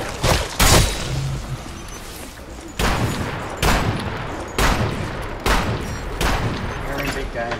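Rapid bursts of video game gunfire crack out in several loud volleys, separated by short pauses, with players talking over the shooting.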